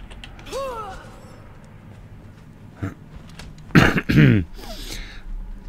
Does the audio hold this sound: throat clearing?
yes